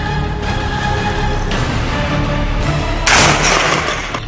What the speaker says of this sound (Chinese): 在攀登楼楼顶的射击，何英树依然不够果断。